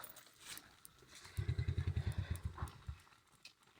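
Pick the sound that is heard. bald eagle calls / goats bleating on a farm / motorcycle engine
motorcycle engine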